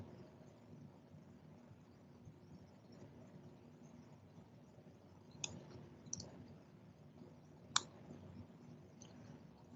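A computer mouse gives three or four sharp, isolated clicks, spaced irregularly and faint, over a quiet background hiss.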